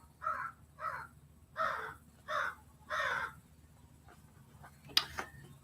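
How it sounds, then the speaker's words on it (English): A crow caws five times in a steady series of harsh calls at moderate distance, followed by quieter background sounds and a brief sharp click near the end. "As I say that, a crow."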